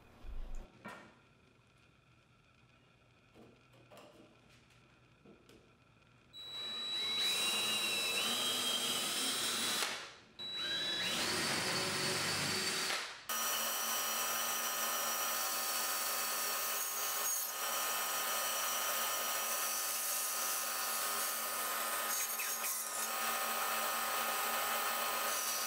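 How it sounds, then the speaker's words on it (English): A bandsaw cuts a hand relief into a wooden support piece for a folding table. The motor spins up into a loud, steady whir, the blade bites into the wood in two cutting passes, and then a continuous hum follows. "we take the piece to the bandsaw to cut out the relief so you can fit your hand onto the front of the"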